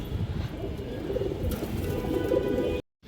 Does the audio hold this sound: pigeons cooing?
yes